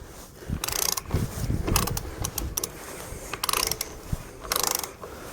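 Ratcheting wrench clicks in bursts while tightening the flywheel nut on a 1955 Lister LD1 engine, several quick runs of metallic ratchet pawl clatter spaced by pauses, close and fairly loud.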